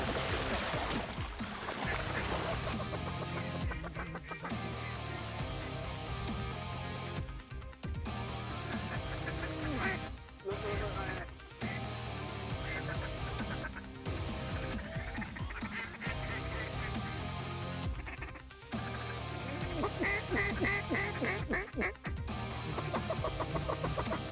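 Ducks calling at a waterfowl hunting spot on Thanksgiving: a dense, continuous chorus of quacks and honking calls, fairly faint and distant, with frequent overlapping bursts and brief lulls throughout.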